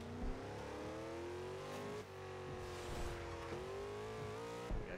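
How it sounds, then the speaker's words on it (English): Dodge Charger engine in Forza Horizon 2 revving hard and climbing through gears in the rain, a loud sustained roar with rising pitch sweeps and brief shift breaks, no talking over it. "Now, one of my favorite is the Dom's car, the Dodge Charger"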